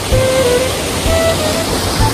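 Busay Falls in San Fernando pours in a steady, close, full-band rush of falling water, continuous and loud with faint tonal whistles over the roar.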